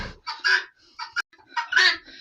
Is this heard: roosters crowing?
yes